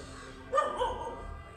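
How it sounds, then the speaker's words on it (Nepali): A dog near a Buddhist monastery in Nepal gives one short, moderately distant bark, with a brief follow-on yelp, against a quiet outdoor background. "कुकुर पनि भुग्यो"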